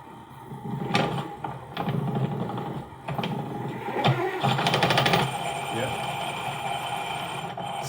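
A cheap faceting machine bought on eBay runs at high speed, a whirring, rattling motor with uneven clicks and mechanical knocks, close by, alongside a voice talking.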